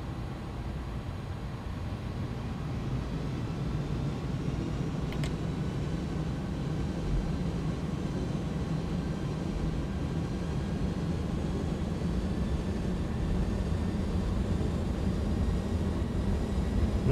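Jet engines of a Beluga A300-600ST in the X-Plane simulator spool up for takeoff, a deep continuous rumble and roar that builds slightly over time with a thin high whine, steady and unbroken.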